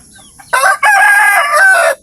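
A loud rooster crows once up close, a long strained call that rises and holds before cutting off, with no other sounds around it, on a backyard farm raising chickens and pigs.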